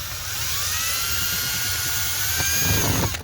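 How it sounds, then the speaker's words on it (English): A power drill bores a hole while fixing a sliding door lock on a 2008 Town and Country/Routan minivan, a steady high whine running throughout with a slight pitch drift, ending with a brief stop. "We're going to drill a hole right on top of that."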